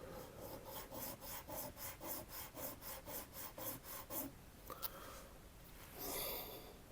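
A hand file rasps across a small metal part for a 1/35-scale T-26 tank model, about a dozen steady, evenly paced back-and-forth strokes, close and quiet, then a short pause and a brief scrape with a sniff.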